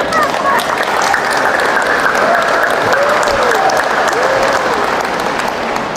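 Dense continuous clapping from a church congregation during a sermon, steady and loud, with faint voices mixed underneath.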